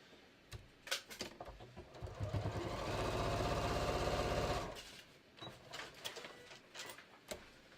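A sewing machine runs a steady seam on a pair of shorts near the waistband and fly, a continuous mechanical whir lasting a few seconds after some handling clicks, then stopping with light rustling.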